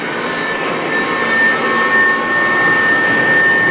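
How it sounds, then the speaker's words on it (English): A heavy-duty vacuum cleaner with a solid steel casing runs with a loud, steady whooshing roar and faint whining tones, barely changing in level throughout, with no talking over it. "This is a heavy-duty vacuum, though."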